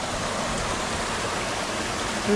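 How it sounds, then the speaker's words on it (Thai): Water flowing steadily in a stream near a village, a constant close rushing wash with no talk over it. "เราได้ยินเสียงน้ำไหลผ่าน"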